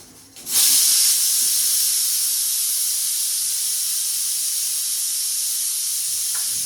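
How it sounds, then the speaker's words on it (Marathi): Pressure cooker letting off steam in a home kitchen during a morning cooking routine: a loud, steady hiss that bursts in after a brief quiet moment and holds on, close and unbroken, with no voices. "कुकरच्या शिट्ट्यासुद्धा होते"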